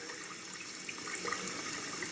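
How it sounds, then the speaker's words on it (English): A leaking toilet fill valve letting water run into the tank, a faint steady trickling hiss with small bubbling splashes, continuous and close. "So if this part's leaking, you just hear it running"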